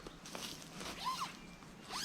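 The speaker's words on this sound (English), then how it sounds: "you bring your second zipper up to the center here" A zipper on a RedTail hammock bug net being drawn along in short, close pulls, with a brief rasping run near the middle and another at the end over quiet background.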